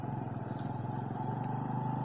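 A motorcycle idling and moving through a water crossing on a mountain road between Kaghan and Naran, its engine a steady, throbbing mid-pitched drone, close and continuous with faint clatter.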